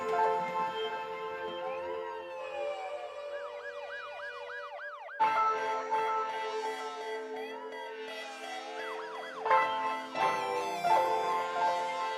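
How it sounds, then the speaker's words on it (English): Wailing emergency sirens at a college football game sweep up and down in overlapping cycles, fairly loud and continuous, with a couple of different siren tones joining partway through. "as the sirens go off"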